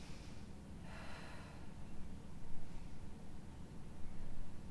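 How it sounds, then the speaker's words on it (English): Heavy breaths during a beginner abs and core workout, slow inhales and exhales drawn out over a steady low background hum, close and moderately loud with no talking. "3 deep breaths"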